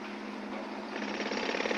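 Excavation machinery at the World Trade Center construction site, a rapid rattling hammer-like pounding that runs steadily and grows slightly louder, with no talking.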